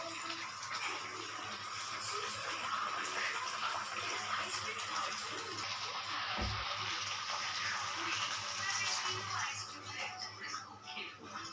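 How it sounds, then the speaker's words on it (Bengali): A bowl of water pours into a cooking pan of potato and aubergine as a faint, steady splashing rush, with a dull knock midway and quiet room noise around it. "এবার এই বাটিরই এক বাটি জল দেব।"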